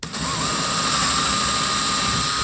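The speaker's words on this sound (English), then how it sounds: "So do always check before you drill into walls." A power drill whines steadily and loudly at close range, spinning up and holding a constant high-pitched drone while drilling into a wall, with no talk over it.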